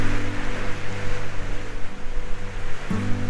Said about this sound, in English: The tide's working its way back in again.